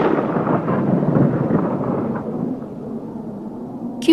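A thunderstorm with hail and strong wind in a stage drama rolls as a deep, loud rumble of thunder that slowly fades over several seconds, ending with a brief sharp crackle.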